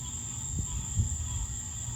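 A cicada gives a steady, high, thin buzzing drone that holds unbroken, close by, over a faint low rumble.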